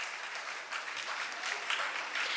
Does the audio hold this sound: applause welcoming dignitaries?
yes